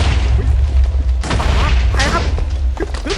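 Shooting and explosions in the video game Minecraft come as loud booms and gunfire bursts over a heavy low rumble, with people talking excitedly over the action.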